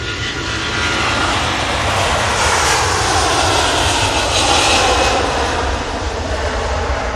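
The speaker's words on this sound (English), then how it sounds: "Jet 2 A330, not an A380." A Jet2 Airbus A330 jet airliner's engines roar steadily and loudly, a broad continuous rumble with a faint high whine that swells slightly midway and holds for the whole stretch, no voices.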